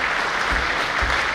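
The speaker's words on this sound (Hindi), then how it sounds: "जोरदार तालियां भाई साहब के लिए" Steady applause from an audience at a community function, a dense continuous patter of many hands at moderate level, filling the whole moment without any talking over it.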